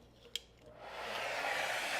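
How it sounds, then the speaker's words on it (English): A handheld blow dryer switches on and runs steadily, a loud broadband whoosh of air aimed at tape-in hair extensions, preceded by a brief click and a quieter moment before the airflow builds to full strength. "I'm gonna take the blow dryer and do those tips"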